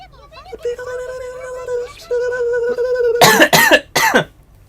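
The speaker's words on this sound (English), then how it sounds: "Why am I coughing a lot now?" Three harsh, loud coughs in quick succession near the end, following a stretch of tonal, voice-like sound from game audio or humming.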